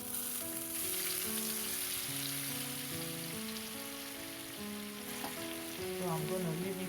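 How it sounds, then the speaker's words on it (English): Shrimp frying in hot oil, a steady quiet sizzle running throughout beneath a clear background melody of music. "So I'm going to leave it to fry."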